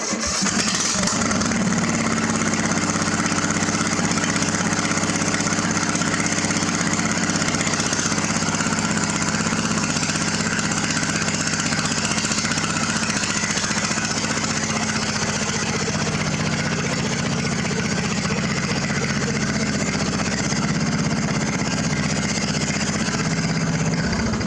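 A lawn-mower-engined dune buggy runs steadily and loudly nearby while it is pulled out, a continuous droning mid-pitched engine hum with slight variations and no voices.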